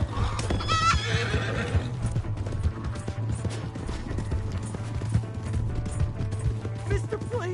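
A horse neighs loudly at the start in Red Dead Redemption 2, then steady galloping hoofbeats continue under a low rumbling drone, with game sound effects in the background.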